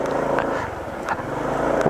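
A Honda ADV150 scooter rides along a forest road, its engine droning steadily and close with rough, bumpy undertones throughout a short stretch.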